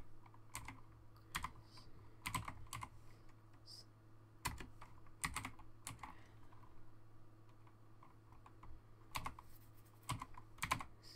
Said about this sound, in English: This is for a second so I can type quicker.